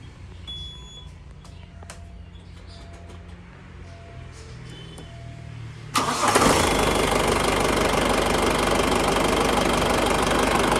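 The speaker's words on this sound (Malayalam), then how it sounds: "അതിൻ്റെ വണ്ടിയുടെ എൻജിൻ സൗണ്ട് കേൾക്കാനൊക്കെ ആയിട്ട് ജസ്റ്റ് ഒന്ന് സ്റ്റാർട്ട് ചെയ്യാം" A car engine cranks for a few seconds, then catches with a sudden loud roar and settles into a steady, close idle.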